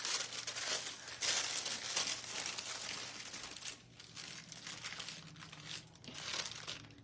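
Wrapping paper crinkles and rustles up close as it is handled for a Mod Podge craft, a steady crackling texture with brief pauses and renewed bursts of crumpling.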